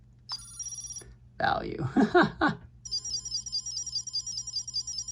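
A Digimon Digivice Ver. 5 20th Anniversary virtual pet gives high electronic beeps, first briefly and then as a steady warbling beep pattern, while a person speaks over the middle.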